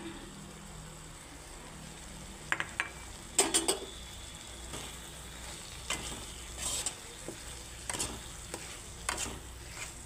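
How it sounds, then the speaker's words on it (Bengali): Soybean-potato curry spices sautéing in oil make a steady low sizzle, broken by repeated scraping strokes of a spatula against the pan and a few sharp metallic clinks, with no voices. "সব ভালো করে একদম কষিয়ে নেব"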